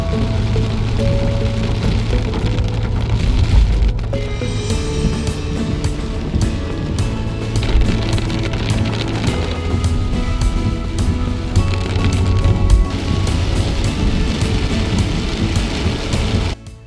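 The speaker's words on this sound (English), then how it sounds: "the weather seems to be changing, and within no time, we are in for some fierce rains." Fierce rain pours down in Kodaikanal, a loud continuous hiss and patter of heavy drops hitting the ground and nearby surfaces, unbroken throughout with occasional sharper splashes.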